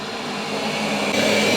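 A Roborock S8 Pro Ultra robot vacuum cleaner whirs steadily with a constant motorized hum and airy rush, close by and unbroken.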